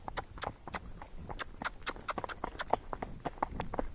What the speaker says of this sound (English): That was his trot.